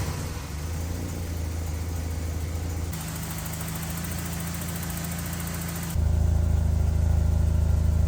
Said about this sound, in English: It sounds like a 4-cylinder from the 80s because, I guess that's what it is